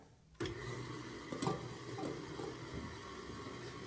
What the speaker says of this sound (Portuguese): Então, nós vamos com a nossa batedeira.